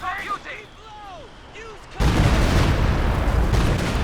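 A Company of Heroes 2 walking Stuka rocket artillery barrage: whistling rockets arc in over quieter battle ambience, then a sudden loud wall of explosions erupts and rumbles on continuously.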